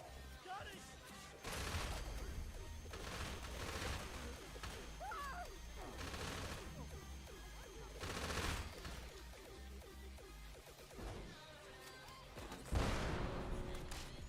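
Video game minigun shredder firing in long rattling bursts with heavy crashing impacts and a sharp explosion near the end, dense and continuous, with people talking under the gunfire.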